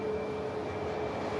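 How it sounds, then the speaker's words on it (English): An aircraft roars steadily at an airport near Manchester, a constant broad engine drone with a faint high whine, loud and unbroken, no voices. "this is a fantastic looking aircraft"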